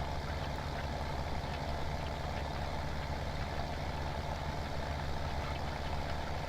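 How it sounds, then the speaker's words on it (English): Tractor engine under heavy load while pulling a plow in Farming Simulator 17, a steady, continuous low drone with strong bass harmonics that holds at even loudness throughout, with no talking over it. "Working the tractor pretty hard, but that's good stuff."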